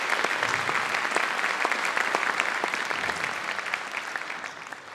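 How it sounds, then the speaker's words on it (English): An audience at a middle school 7th grade spring band concert claps for the student bands in a steady, dense round of applause that fades slightly toward the end, with no talking. "If you give them a round of applause for that."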